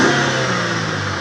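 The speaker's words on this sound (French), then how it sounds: "c'est quand même un assez beau bruit pour une voiture qui n'est pas une AMG" A Mercedes CLK engine revs briefly nearby, a smooth steady mid-pitched roar holding for about a second without any talking.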